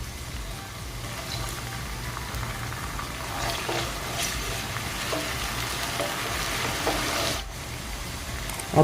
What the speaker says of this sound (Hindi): प्याज को हम 2 से 3 मिनट के लिए अच्छी तरह भून लेंगे।